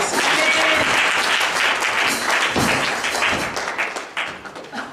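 A church congregation applauds loudly and continuously, dense clapping filling the space from many hands, then thinning slightly toward the end.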